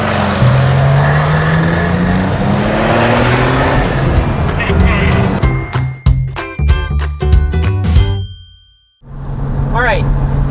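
A 2004 Porsche 911 996 twin turbo with the X50 power option drives loud and close, its engine droning, then breaking into choppy bursts before dropping to near silence and returning, with talk over parts.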